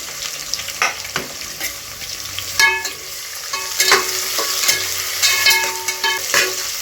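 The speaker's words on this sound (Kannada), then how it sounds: "ಇವಾಗ ಅದ್ರ ಜೊತೆಗೇ ಈರುಳ್ಳಿ ಹಾಕೋತಾ ಇದ್ದೀನಿ. ಒಂದು 2 ಈರುಳ್ಳಿಯಷ್ಟು ಹಾಕೋತಾ ಇದ್ದೀನಿ." Sliced onions sizzle in hot oil in a pan for Ambur biryani, with a steady frying hiss broken by repeated scrapes and clinks of stirring.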